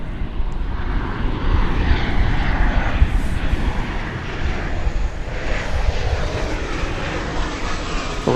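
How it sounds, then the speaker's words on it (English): An American Airlines Boeing 737-800 jet arriving at DFW Airport from Colorado Springs produces a loud, continuous engine roar with broad rushing noise that rises and falls gently over several seconds, with no talk. "Arriving at this moment from Colorado Springs. It's a 737-800. American Flight 1812."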